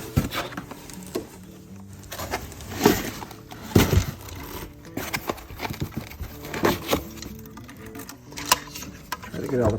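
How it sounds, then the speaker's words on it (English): Unboxing of a Creality Ender 3 budget 3D printer on a workbench: rustling cardboard, crinkling packaging and scattered knocks as parts come out of the box, irregular and close, with some speech-like noise mixed in. "let's go ahead and unbox the printer."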